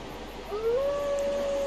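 Great Grey Wolf Sif, the wolf boss in the video game Dark Souls Remastered, lets out a single howl that rises and then holds as a long, steady, loud cry over faint background ambience.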